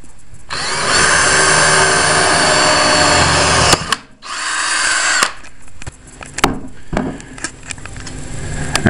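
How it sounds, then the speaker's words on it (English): A power drill bores a hole through a 2-inch clamp that will serve as a bracket for supercapacitors. The motor whines loud and steady for about three seconds, cuts out, then runs again. Brief stops, restarts and clunks follow. "now we're going to drill a hole in the 2-inch clamp"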